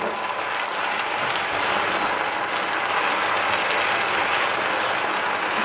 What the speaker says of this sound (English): This is the part where we add the water, so be super careful because it's gonna steam even more.